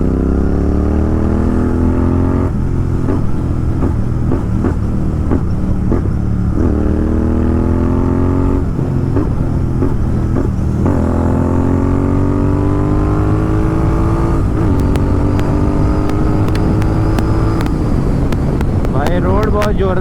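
Royal Enfield Continental GT 650 fitted with a Red Rooster exhaust, ridden on a road with repeated throttle rises through the gears, loud close engine drone with sharp crackles and pops on deceleration, plus steady wind rush.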